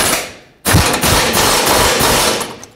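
An impact wrench tightens bolts on a car in one long, loud, continuous buzzing burst that starts abruptly and runs for about two seconds.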